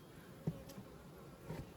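Faint buzzing of bees close by in the evening, soft and brief, with a couple of slightly louder passes.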